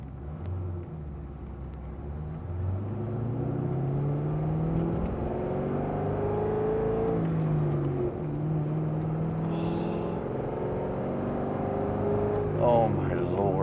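A 2007 Chevrolet Corvette Z06 pulls away and accelerates, its engine rumbling and rising in pitch through several gear changes, loud and close from inside the car, with a brief whine near the end.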